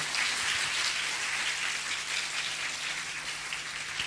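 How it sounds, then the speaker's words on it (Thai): An audience at a live animation film festival talk gives guest Fanou Lefebvre a dense, steady burst of clapping that holds evenly throughout. "ขอเสียงปรบมือดังๆมากๆให้คุณฟานูก่อนเลยเนาะ"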